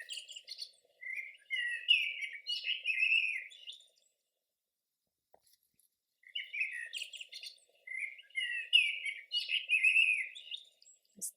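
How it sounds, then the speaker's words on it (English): High, rapid chirps from a baby bird in a nesting box in two bursts separated by a few seconds of quiet, fairly close and clear. "There's a baby bird sheltering in the nesting box. Listen to the sound it's making."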